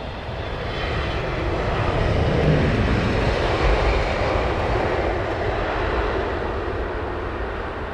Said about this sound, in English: Singapore Airlines 777 just arrived